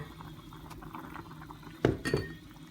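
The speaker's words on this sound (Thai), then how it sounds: "แล้วก็ตุ๋นทิ้งไว้ประมาณ 15 นาทีนะคะ เพื่อให้แครอทกับฟัก สุกค่ะ" A pot of carrot and winter melon stew simmers quietly, with soft continuous bubbling and a couple of brief clinks near the end.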